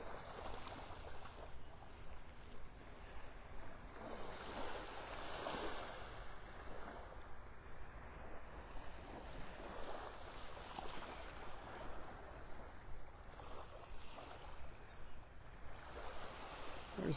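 Morning surf rolls onto the mile-long sand of Vanderbilt Beach in North Naples, Florida, a soft, steady wash that swells and recedes in gentle surges, heard faintly from a short distance.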